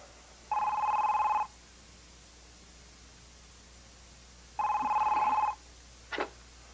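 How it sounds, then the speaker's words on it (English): A landline telephone rings in two long electronic trills several seconds apart, loud and alone in a quiet room, followed by a brief click as the handset is picked up. "talking to the phone won't make it ring any sooner"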